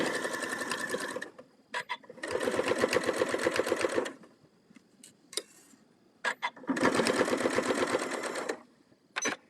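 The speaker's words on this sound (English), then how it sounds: "I'm just going to sew this down. Again, I'm using a 1/4 inch seam allowance." A sewing machine stitches quilt-as-you-go pieces with a quarter-inch seam allowance, running in three loud sustained bursts separated by brief pauses, quiet handling and a few short clicks.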